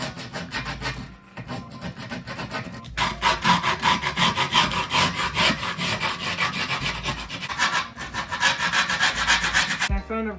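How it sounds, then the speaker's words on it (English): Razor blade scoring and cutting scooter grip tape, a loud, close, rhythmic rasping scrape in long continuous runs with brief pauses between strokes. "I can finish scoring the grip tape and then I'll be able to cut the edges off"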